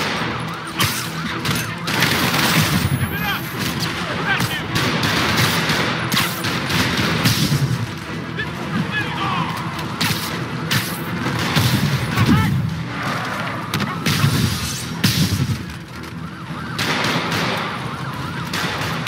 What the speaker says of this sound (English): Officers are engaged with the demon. Shots fired.